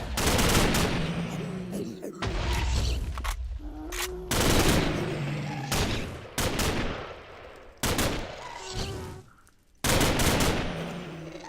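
Rapid automatic gunfire from a Minecraft Flan's Mod weapon in a video game, loud sustained bursts broken by short pauses, repeating several times without speech.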